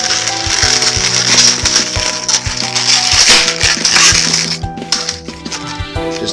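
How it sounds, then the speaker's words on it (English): A latex balloon being twisted and locked at a joint while building a ladybug balloon animal gives close, continuous squeaky rubbing and creaking with quick ratchet-like clicks. It runs steadily throughout with no voices. "Just twist it around to lock it in."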